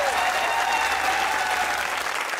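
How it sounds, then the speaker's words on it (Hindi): A studio audience at a comedy talk show breaks into loud, continuous applause, a dense unbroken roar of many hands clapping, close and steady throughout. "अगर हैं तो फिर जोर से तालियां बजाइए यार"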